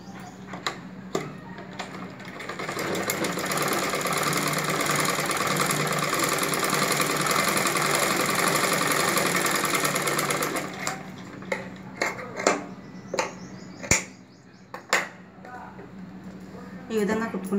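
Sewing machine running a long continuous double stitch on a prince cut blouse, steady and close for about eight seconds, framed by clicks, fabric handling and someone talking before and after.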